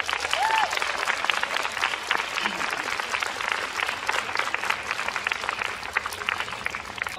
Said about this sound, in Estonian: Aplaus talle!